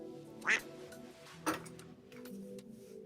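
Two short, close quacks come about a second apart, with a quiet low hum and faint room sound in between.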